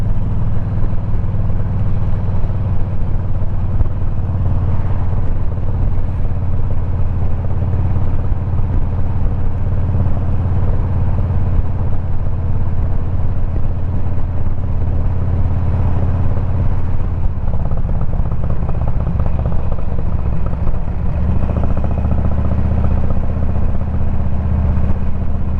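A Harley motorcycle called the Frankenglide rumbles under way on the road, a loud, continuous low engine drone with wind noise and slight shifts in pitch as it rides along.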